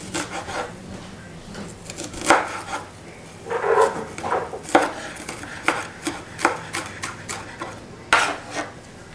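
Onions chopped with a knife on a wooden board, many quick sharp cuts in an uneven rhythm, close and clear, with a faint clink of dishes.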